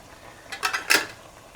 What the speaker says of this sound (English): take off the lid